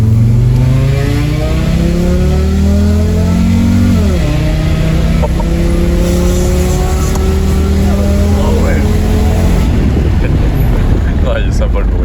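A Renault Safrane 2.5 V6 engine revs up through several gears on the street, rising tones dropping at each shift, loud and close with wind noise and occasional talking.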